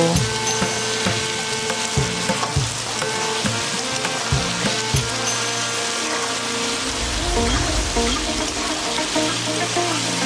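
Hog plum pickle frying with salt and turmeric gives a steady, close sizzle throughout. Soft stirring scrapes and taps sound over it, with no talking.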